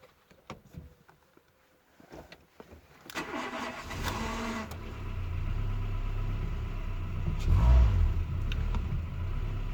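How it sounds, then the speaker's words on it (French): A Renault Twingo II converted to run on ethanol cold-starts at 5 degrees outside, a few clicks and the starter cranking briefly before the engine catches, then a steady, close idle with a slight rise in revs. "Démarrage au premier coup et ça tient le ralenti"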